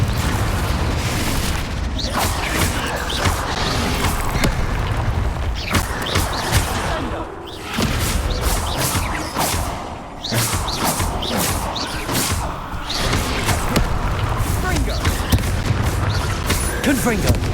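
Repeated Confringo explosion spells from the Hogwarts Legacy video game, a run of booming blasts and crackling impacts at irregular intervals over a continuous, busy battle mix, with a voice shouting at times.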